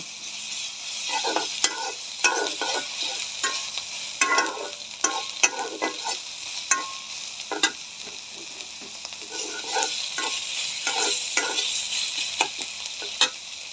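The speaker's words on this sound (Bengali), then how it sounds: "এই যে আমি তেলের মধ্যে পেঁয়াজ আর মরিচ কুচি দিলাম" Chopped onion and chili fry in hot oil with a steady close sizzle, broken by repeated sharp scrapes and clicks of a stirring utensil against the pan; no voices.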